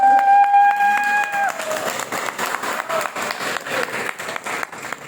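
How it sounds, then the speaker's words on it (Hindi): An audience applauds a crypto project with dense, sustained clapping that begins after a brief held tonal sound at the start and continues steadily to the end. "जोर से ताली बजाइएगा प्रोजेक्ट के लिए"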